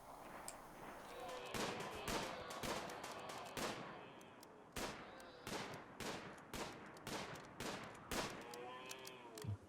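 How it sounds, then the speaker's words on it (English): Revolver fire in the video game Rimworld: a series of sharp, loud shots at irregular intervals, some in quick pairs, over a low background of game ambience. "That bloody revolver, though, High Kaiser."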